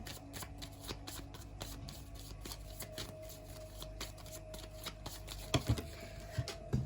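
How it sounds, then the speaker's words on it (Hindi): Playing cards scatter and are gathered back up during a tarot-style reading, soft repeated flicks and slides of card stock close by with a few sharper taps near the end, faint overall. "ओह सारे कार्ड्स गिर गए हैं।"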